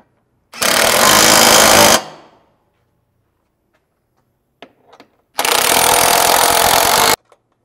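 Loud impact-type power tool hammers bolts tight on Jeep Gladiator rock sliders, two sustained bursts of about one and a half seconds each with a short clatter of handling between them, no talking.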